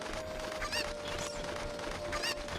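A chicken in The Legend of Zelda: Ocarina of Time gives two short squawking clucks, about a second and a half apart, over steady background game music and ambience.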